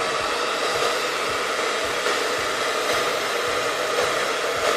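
Steady hot-air blower heating a vinyl skin wrap on a smartphone, a continuous close broadband whoosh held for several seconds with no talking.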